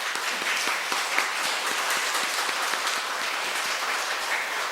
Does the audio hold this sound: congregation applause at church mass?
yes